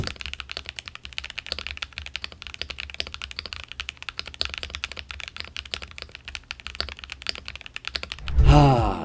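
Rapid, steady typing on an Asus keyboard fitted with PBT double-shot keycaps, close and crisp with dense clicking keystrokes over about nine seconds, ending with a brief louder rustle.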